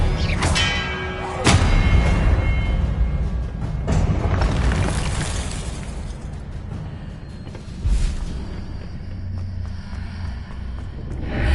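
Expelliarmus spell cast in a Harry Potter video game: a loud booming magical blast with a sharp onset and a long rumbling decay, followed by further thuds and swells from the game.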